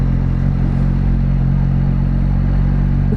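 A Yamaha XSR 900 motorcycle rolls along in first gear on a road in Gran Canaria, its engine humming low and steady under constant wind rush, with no changes in pace.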